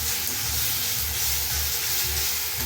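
Spice masala with pepper and salt frying in a pan for mutton curry gives a steady, dense sizzle and hiss that stays loud and even throughout, with no talk.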